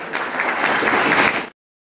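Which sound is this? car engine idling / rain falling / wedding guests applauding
wedding guests applauding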